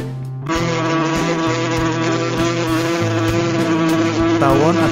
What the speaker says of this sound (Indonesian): Tawon atau tabuhan adalah serangga terbang yang mudah dikenali karena dikenal suka menyengat bila diganggu.